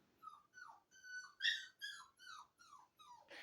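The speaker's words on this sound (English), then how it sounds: "puppy's whining." A puppy whines in a string of about eight high, descending whimpers with short pauses between them, fairly close in a quiet room.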